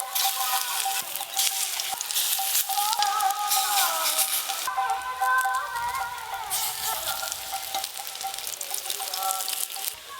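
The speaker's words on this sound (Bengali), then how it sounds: "আজকে অনেকগুলো বড়া হবে, এইগুলো একবারেই ভেজে নেব।" Pui leaf fritters (bora) frying in oil, cooked in batches, a steady bright sizzle and crackle running throughout, close and continuous, with no talk over it.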